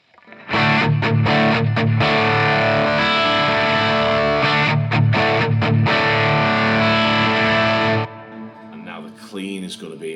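Distorted electric guitar run through a Laney Ironheart Foundry amp pedal on its rhythm setting, playing loud, steady chugging chords with brief stops, then dropping to quieter, thinner notes at the end.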